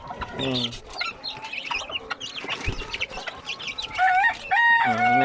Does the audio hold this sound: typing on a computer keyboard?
no